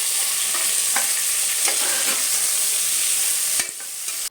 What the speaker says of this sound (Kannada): ಇದಿಷ್ಟು ಸ್ವಲ್ಪ ರೋಸ್ಟ್ ಆಗೋ ತನಕ